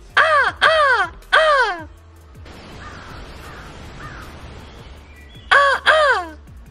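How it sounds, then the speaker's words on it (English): Harsh crow caws in quick bursts of three on a calm Kentucky river, then a pause with soft rushing background noise, then two more loud caws nearby. "Those are my Kentucky buddies, Kentucky crows."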